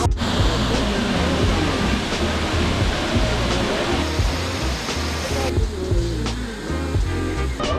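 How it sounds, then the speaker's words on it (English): Ouzoud Waterfall in Morocco, heard from the top of the falls as a loud, steady, broadband roar of rushing water that fills the whole scene without pause. "We're at the Ouzoud Waterfall at the very top"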